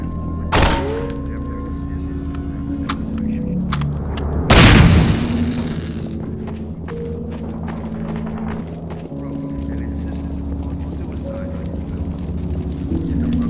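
Gunfire and a loud blast in the video game Half-Life 2: a sharp report near the start, then a heavy explosive boom around the middle, with game voices and background ambience carrying on throughout.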